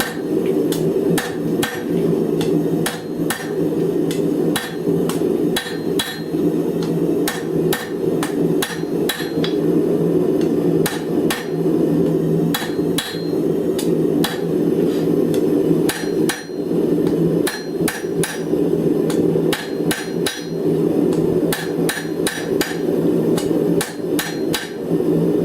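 Hammer blows forging a short, stubby taper on metal stock at an anvil, struck in steady bursts of quick, ringing hits with brief pauses between groups, over a constant low hum.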